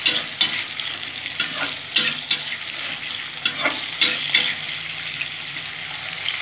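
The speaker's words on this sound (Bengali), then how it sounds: "একটু ভেজে ভেজে নেবো।" Potatoes fry in a pan with a pinch of turmeric, giving a steady close sizzle broken by sharp scraping stirs every second or so, with no voices.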